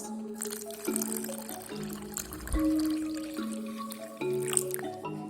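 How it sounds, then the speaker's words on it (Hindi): Milk from a glass pours into a bowl of semolina for chakwal halwa, giving a steady liquid trickle and splash with shifting tones over a few seconds, close up and without talk. "इसमें दूध ऐड करें 1 गिलास"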